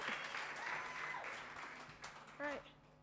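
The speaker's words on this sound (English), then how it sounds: "Please welcome her to the stage. The round of applause." Applause from a conference audience at a Bitcoin and human rights keynote, fairly quiet and distant clapping, with a brief voice rising over it near the end.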